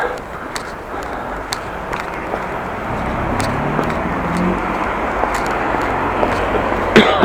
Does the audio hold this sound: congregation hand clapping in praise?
no